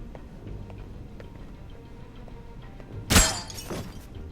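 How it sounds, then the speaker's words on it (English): Glass shatters in a sudden loud crash about three seconds in from the stealth video game Alpha Protocol, following a low ambient hum with faint ticking, then a brief tinkling tail. "You hear the glass breaking."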